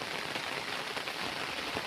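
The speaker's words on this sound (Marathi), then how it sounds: "आज कसा पाऊस किती छान पाऊस पडायला लागला आहे" Rain falls steadily on a farm, an even, close patter of drops on surfaces with no voices over it.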